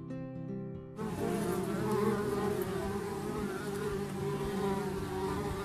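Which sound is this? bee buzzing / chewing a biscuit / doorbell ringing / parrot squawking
bee buzzing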